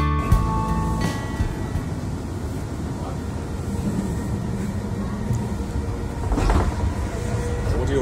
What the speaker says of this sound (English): Now you're on the train safely